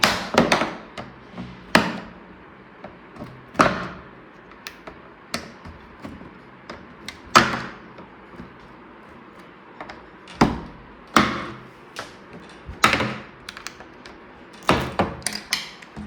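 A screwdriver pries off the back cover of a Samsung TV, producing sharp plastic clicks and snaps at irregular intervals, some louder and some faint. Each crack is close and short, with quiet gaps between them.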